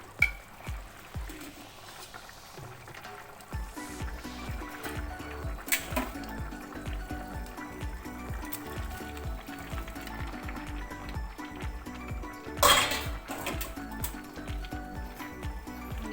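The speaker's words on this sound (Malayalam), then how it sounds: "ഇനി നമുക്കിതിലേക്ക് കപ്പ ഇട്ട് കൊടുക്കാം." Tapioca pieces are tipped into a thick masala curry in a pan. Moderate sizzling follows, with scraping and stirring, and a few louder clatters rise above the steady frying.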